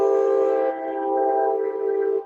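A train horn blares close and loud in one sustained chord, fading slightly as it holds for about two seconds, with no talking.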